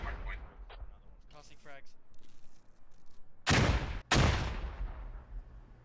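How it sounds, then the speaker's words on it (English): Frag grenades go off in the military shooter Squad, two loud close blasts about half a second apart following quieter distant shots, with voices chattering faintly in the background. "We got some frags going out."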